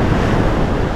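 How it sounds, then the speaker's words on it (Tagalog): Ocean waves break at Scarborough beach in Perth, Western Australia, on a rough day with big surf. A loud, continuous rush of surf mixes with wind buffeting the microphone. "Maalon ngayon, no? Yung mga surfer matutuwa nito."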